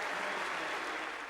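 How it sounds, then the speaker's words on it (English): A cricket crowd at the Melbourne Cricket Ground applauds a batsman's first Test century against the West Indies, a broad, even wash of distant clapping from a large stadium audience. "a wonderful round of applause for Mark Waugh making his first 100 at the Melbourne Cricket Ground"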